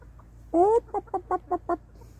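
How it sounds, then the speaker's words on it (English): Free-ranging chickens kept in a jungle-like yard give a rising squawk followed by five short, evenly spaced clucks, close and clear with no talk. "Jungle chickens."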